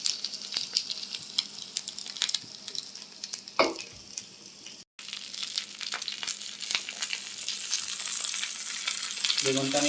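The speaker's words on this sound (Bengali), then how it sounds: "এভাবে বেগুনগুলোকে আমি কয়েকবার অল্প অল্প করে দিয়ে পোড়া পোড়া করে ভেজে নিব।" Eggplant pieces fry in a pan for Bangladeshi begun bhorta, with a continuous close sizzle and spatter, occasional stirring and scraping, and a brief break midway.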